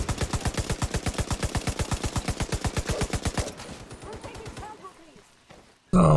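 Enemies are shot in The Division 2 with a fast, evenly spaced automatic volley of around thirty close, punchy shots. The volley stops abruptly, then a quieter ringing tail and scattered clatter follow before a sudden loud burst at the end.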